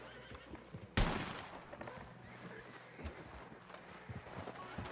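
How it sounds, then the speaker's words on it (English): Gunfire in the WildRP video game: one loud sudden shot opens a busy scene with further scattered pops, horse whinnies and hoofbeats mixed in. "Is that us shooting or them shooting?"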